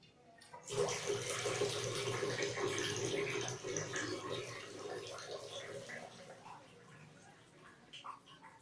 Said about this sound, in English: the values getting increased by the flow of the water in the pipe and the flow meter.